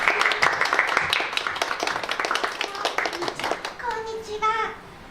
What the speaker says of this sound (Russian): Под аплодисментом.